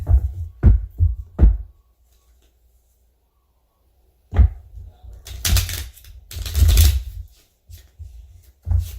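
Tarot cards are shuffled in several quick riffling bursts separated by pauses, with soft thumps and rustling close by.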